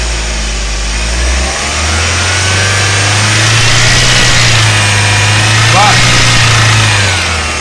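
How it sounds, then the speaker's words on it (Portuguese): A 2014 Chevrolet Prisma engine revs and holds between about 3,000 and 4,000 RPM, close and loud, with a steady drone and a loose drive belt squealing on top of it, while people talk nearby. "É a correia aqui, a correia bamba."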